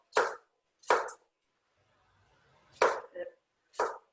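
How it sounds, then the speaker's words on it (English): A knife chops zucchini on a cutting board: four sharp, close thuds in an uneven rhythm, with a quieter tap after the third and faint background hiss between strokes. "And then we're going to chop it again."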